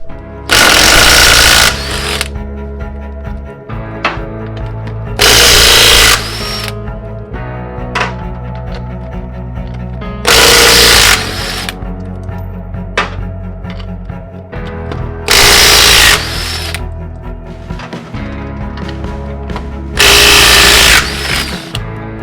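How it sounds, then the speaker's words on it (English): An impact tool spins off the lug nuts on a trailer wheel in five loud bursts of rattling hammering, each about two seconds long and spaced roughly five seconds apart, with quieter clinks and handling noise in between. "I'm gonna take the wheel off real quick"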